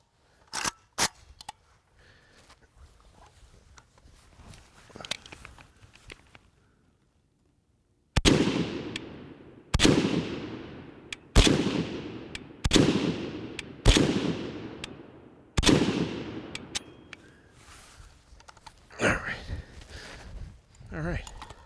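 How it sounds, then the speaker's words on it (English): Rifle shots from a USA-made PSAK-47 AK-47 fired from the prone position at a target 50 yards out: six loud, sharp reports at roughly one-second intervals, with quieter handling sounds before and after. "I'm just gonna shoot the pelvic girdle on there from the prone position"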